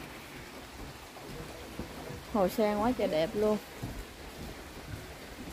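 Rain falls steadily at a pagoda with a lotus pond, a constant soft hiss of drops throughout, while a person speaks briefly over it in the middle.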